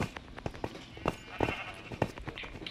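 Sheep bleating in a candy-themed hide-and-seek video game, a series of short, repeated bleats in a quick irregular rhythm, fairly close and clear, with game noise mixed in.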